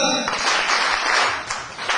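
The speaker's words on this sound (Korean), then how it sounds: "자, 박수!" A crowd at an evening friendship event claps in a short, loud burst of applause, with some voices mixed in.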